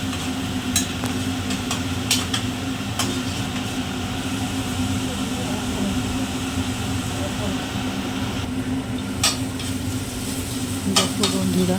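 Boiled ghugni (dried peas) goes into spices frying in a wok, giving a steady sizzle and hiss with occasional sharp clinks of a spoon against the pan.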